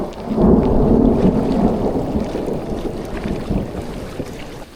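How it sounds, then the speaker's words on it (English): Heavy rain pours down during a lightning storm at an outdoor smelt-dipping spot, a dense, loud roar with rumbling low thunder and wind buffeting the microphone, continuous throughout with no talking. "Started raining quite a bit"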